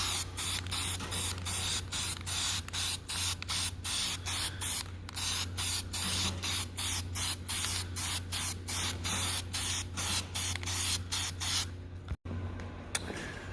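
Repeated bursts of hissing spray in quick pulses coating farm machine parts, close and steady, with a low motor hum beneath and a short pause near the end.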